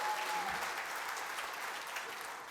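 Keynote conference audience applauding, a continuous, fairly distant wash of clapping from a large crowd that stays steady and slowly fades across the moment.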